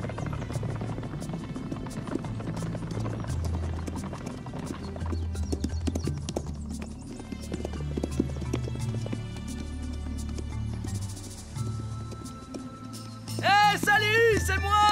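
Rhythmic hoof clip-clops of a horse in an animated cartoon trot steadily over a soft musical backing before a voice speaks at the end.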